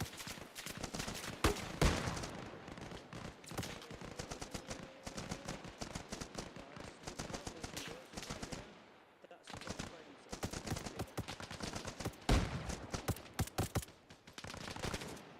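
Bursts of automatic gunfire in the military shooter Arma Reforger crackle through rapid volleys with brief pauses, loud and close, ending in further bursts.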